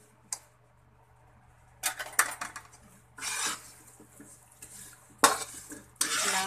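Chicken wings stirred in salted egg sauce in a pan: intermittent scraping and clinking of a utensil against the metal pan in short bursts, close and fairly loud, with brief quiet gaps between strokes.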